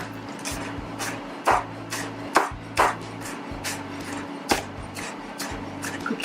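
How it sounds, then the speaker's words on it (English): A knife slices scallions thinly on a cutting board, giving a steady run of crisp, close taps with a few sharper, louder chops scattered among them, and no voices. "So I'm just going to just cut some scallions really thinly."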